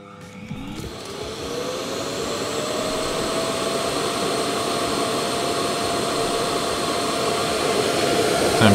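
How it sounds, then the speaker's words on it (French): A Laresar L6 Pro robot vacuum dock suctions out its dust bin with a loud, steady whooshing roar that rises in pitch at the start and then holds, with no voices. "Et le test de vidage avec le bruit."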